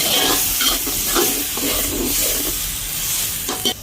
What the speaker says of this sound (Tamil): தக்காளி பழம் வதங்கட்டும்.